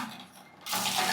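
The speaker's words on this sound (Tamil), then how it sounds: "அப்படியே வந்தோன்னா இது ஷவர் ஒர்க் ஆகும்." Shower water suddenly bursts on in a new house's bathroom, a loud steady hiss of spray starting after a quieter stretch of faint running water and continuing close by.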